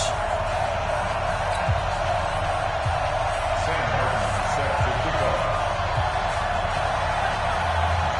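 Stadium crowd from an NFL football video game, Steelers versus Cardinals, a steady loud roar of cheering and whoops that holds evenly throughout with no talk over it.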